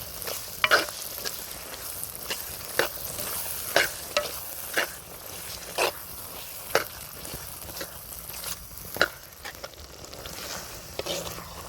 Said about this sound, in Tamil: அரைச்சி வச்ச மசாலாவை போட்டுக்கலாம். இப்படி கிண்டிக்கலாம்.